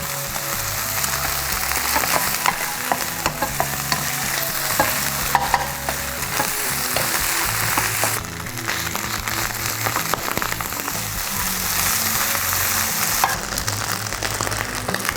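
Garlic and corned beef fry in hot, foaming oil in a pan, a loud steady sizzle with repeated scraping stirs throughout, no voices.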